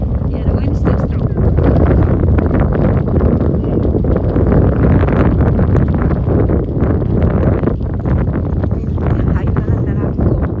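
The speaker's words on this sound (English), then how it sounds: "the wind is still strong" Strong wind buffets the microphone during a bike ride on a Sunday afternoon after winter, a steady loud rumble of wind noise throughout with no clear break.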